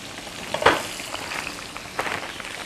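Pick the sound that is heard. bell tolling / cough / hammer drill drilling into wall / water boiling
water boiling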